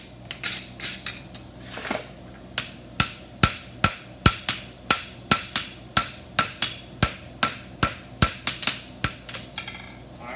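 Hammer blows shaping the frog of a horseshoe heart bar, a steady run of loud, ringing metallic strikes at a regular pace, close and alone with no talking.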